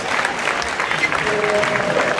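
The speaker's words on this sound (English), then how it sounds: "Give her a round of applause for that gallant effort nonetheless." An audience applauds at an IPF powerlifting competition during the squat event: dense, continuous clapping with some crowd noise, fairly loud and steady throughout.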